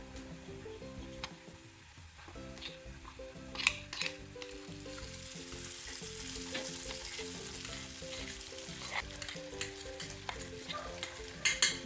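Ground curry paste hits hot oil with ginger and garlic already browned for a curry-leaf pickle, giving a steady, close sizzle and frying hiss with stirring scrapes and light clicks throughout, no voices.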